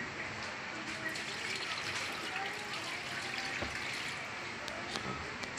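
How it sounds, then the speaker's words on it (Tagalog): Water poured into a DIY 12-volt DC air cooler, a steady close splashing and trickling that continues without a break for the whole clip. "Ngayon, sasalin na natin ng tubig."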